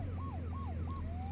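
An electronic ambulance siren in the video game Flashing Lights yelps in quick repeated rising-falling sweeps over a low engine hum, fairly faint.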